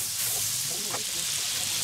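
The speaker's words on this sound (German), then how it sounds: "Und dann machen wir uns hier jetzt ein paar kleine Pancakes." Small pancakes made from ready-mix batter sizzle on a hot plate, a steady close hiss filling the whole moment with no voices.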